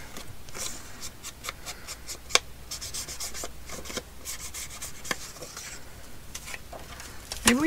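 Distress Oxide ink is dabbed around the border of white paper with soft, scratchy rubbing strokes in short irregular bursts, fairly quiet and close, with occasional small clicks.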